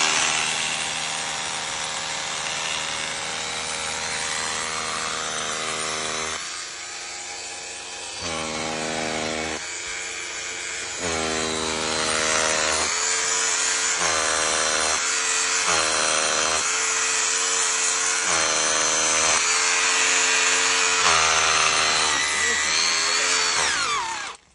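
A rotary hammer drill roars loud and close on a job site, its harsh grinding drone steady for long stretches with short dips and bursts as the bit bites.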